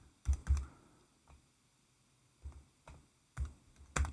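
A few scattered clicks and taps on a computer keyboard come in short irregular bursts, close and quiet against near silence.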